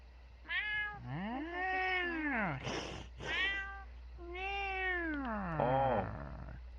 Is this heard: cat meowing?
yes